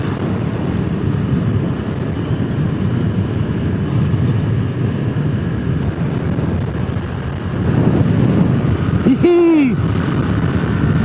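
A Kawasaki Ninja 400 motorcycle cruising on a road with a steady low engine drone, a brief rise in intensity near the end followed by a quick rev or shift.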